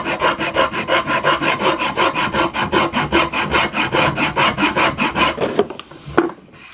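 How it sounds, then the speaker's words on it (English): A sanding block with 80 grit sandpaper rubs along the wooden edges of a custom Les Paul-style guitar body in steady, rhythmic back-and-forth strokes, close and loud, before stopping and going quiet. "we will definitely go around these edges with some 80 grit sandpaper"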